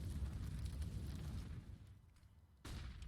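Grenade explosion in Counter-Strike: Global Offensive, a heavy rumbling blast that dies away, followed by a second sharp burst near the end, mid-level with no talk.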